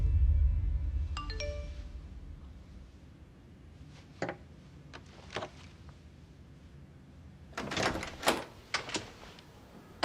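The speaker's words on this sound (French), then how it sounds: "Alors j'ai une sonnette." A doorbell chimes near the start, followed by scattered knocks or clicks and a brief burst of door noise near the end, with no talking.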